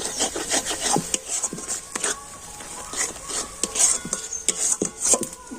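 A spatula scrapes and rubs against a pan as spices are stirred and fried for a kundru and potato curry, a close series of irregular rasping strokes with soft pauses between them.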